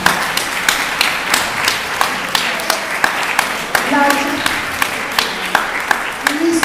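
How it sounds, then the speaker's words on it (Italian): An audience applauds at a school science-project event in a lab or hall, with dense, steady clapping and louder individual claps standing out, while a few voices speak through it. "Finisco l'applauso."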